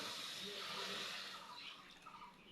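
Water poured from a bowl into a pan of sugar to make a sweet-potato syrup, a steady close splashing pour that tapers off over a couple of seconds.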